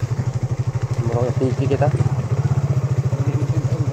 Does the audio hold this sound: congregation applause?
no